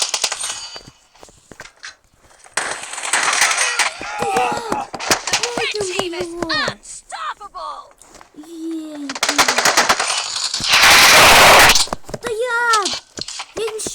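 Rapid bursts of automatic gunfire from a video game, loud and repeated, with children talking excitedly over and between the shots.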